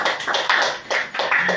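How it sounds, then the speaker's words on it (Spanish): A church congregation applauds loudly and continuously, with dense overlapping hand claps swelling and dipping in waves for the whole stretch. "Denle un aplauso al Señor."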